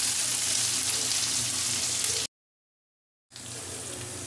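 Onions frying in a pan until soft and lightly pink, a loud, steady hiss and crackle near the microphone that cuts out completely for about a second, then resumes.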